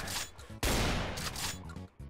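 Shotgun fire in Doom 2 on a quarry level: one loud, broad blast roughly a second long, framed by busy game sounds and rumbling before and after.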